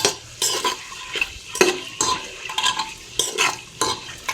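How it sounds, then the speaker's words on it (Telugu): Eggs fry lightly in a pan with salt and turmeric, a close sizzle broken by repeated sharp scraping and clinking strokes of a utensil against the pan in an uneven rhythm, with no voices. "హాఫ్ టీ స్పూన్ సాల్ట్ పావు టీ స్పూన్ పసుపు వేసి లైట్గా ఎగ్స్ని ఫ్రై చేసుకుంటున్నాను"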